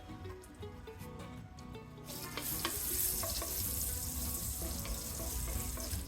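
Chopped garlic frying in oil in a pan, a quiet start that swells after about two seconds into a stronger, continuous sizzle that holds to the end.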